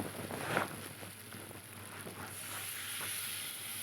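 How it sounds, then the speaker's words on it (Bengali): Taro curry frying in a pan as slit green chillies go in, a steady close sizzle with a few brief stirring scrapes over continuous background hiss. "এবার ভালো করে কষিয়ে নেব আর এই যে চেরা কাঁচা লঙ্কাগুলো এবার দিয়ে দিলাম"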